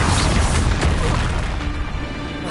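Incendio fire spell cast in Hogwarts Legacy, a loud low whooshing burst of flame that rumbles and fades over a couple of seconds.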